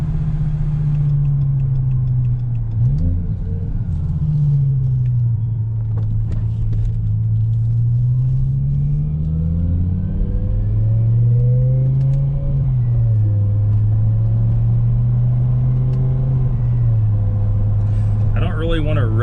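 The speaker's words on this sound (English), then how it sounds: "Want to rev it super high because we just did the bearings in it." BMW E60 M5 with its S85 V10 revving, a loud close drone that swells and falls in repeated climbs before settling toward idle, with a voice talking over it.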